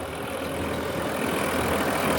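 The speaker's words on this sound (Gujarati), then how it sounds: "પ્રીત કંપનીનું નવસો પંચાવન મોડલ ચાલે છે" A Preet 955 tractor engine runs steadily at close range with a cultivator, a loud, rough mechanical drone that builds slightly as it works a field.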